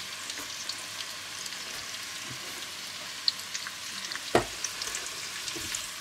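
Shredded white cabbage with some onion frying in a pan, a faint steady crackling sizzle broken by a few light clicks and one sharper knock, no talking.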